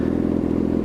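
A motorcycle engine fitted with a new exhaust revs briefly, loud and close, in a rapid throaty burble with a crackling edge and no voices over it.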